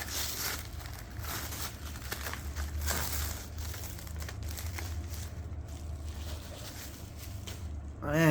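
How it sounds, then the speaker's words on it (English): Packaging on a parcel crinkles and rustles close up as it is unwrapped, a quiet, continuous scratchy crackle with a louder thump at the end. "Let's unwrap this."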